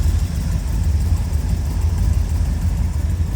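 A 1931 Ford Model A roadster pickup street rod idles smoothly close by, a steady low rumbling engine note with no revving.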